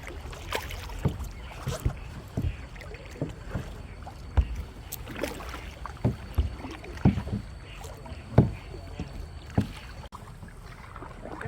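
A kayak is paddled on a river in Vang Vieng, Laos. Close, uneven paddle strokes slap and splash the water every second or so over soft wind, with no talking.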